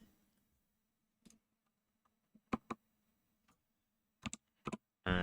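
A few scattered computer keyboard keystrokes, quiet and close, come in short separate clusters of one or two clicks with long silent gaps over a faint steady hum.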